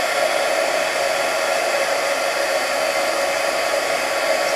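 A heat tool blows a loud, steady, unbroken whoosh while melting embossing powder for an intaglio craft technique, close up and alone for the whole stretch.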